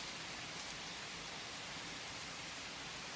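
Steady rain falls as a soft, even hiss with no breaks. It is faint but fills the whole space and no voices are heard.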